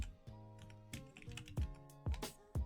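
Keys on a computer keyboard clatter as a search query for a Minecraft diamond sword is typed, a close, irregular run of clicks with a few sharper, louder strikes toward the end.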